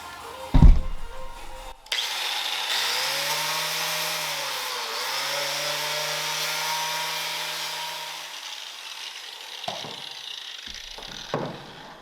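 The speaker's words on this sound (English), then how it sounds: "this is like a paint stripper and rust kind of disc, so this is what I'm going to use" A power tool spins a paint-stripping and rust-removal disc during a car seam-seal repair, a steady loud whine with a low hum holding for several seconds after a short start, then winding down.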